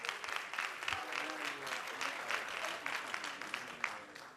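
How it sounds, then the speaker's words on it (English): Audience applause for a moderator taking his seat at a talk event, a steady dense wash of many hands clapping throughout, moderately loud with no voices on top. "let's give him a round of applause, please."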